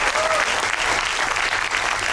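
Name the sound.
audience applause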